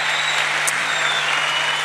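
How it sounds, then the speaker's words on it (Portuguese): Audience applause at a live Portuguese comedy stand-up show in Rio Tinto, a steady, dense wash of clapping from a packed room that holds at one level throughout, with no voices on top. "Não, aplaudam, aplaudam."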